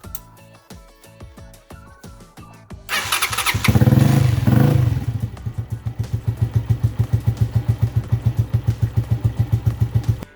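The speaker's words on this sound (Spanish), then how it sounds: "vamos a prender esta moto" A motorcycle engine cranks with a few clattering turns, then fires up loudly after a valve adjustment and settles into a close, rhythmic idle with evenly spaced exhaust pulses.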